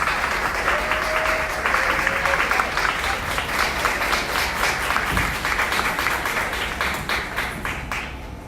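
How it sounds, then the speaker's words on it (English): Sustained audience applause at the Cox Region Benz Bash staff gathering, a dense, even crowd of clapping that holds steady for several seconds before easing off at the end. "Can we give her a round of applause?"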